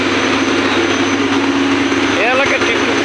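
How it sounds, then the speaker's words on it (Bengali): A generator drones steadily beside a garment factory on a busy street in Narayanganj, a loud, constant engine hum filling the scene with faint street noise and a voice mixed in. "যে জেনারেটরের শব্দ শুনতে পাচ্ছেন।"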